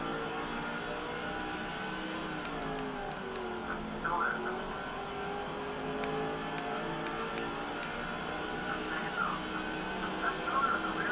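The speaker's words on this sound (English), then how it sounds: "Makes a clean pass on Lance Brantley at least. Gets underneath the 123" Race cars in the NASCAR 05 Busch Series video game at Levi Speedway, engines droning steadily with a few brief rising passes, mixed at moderate level under a low background bed.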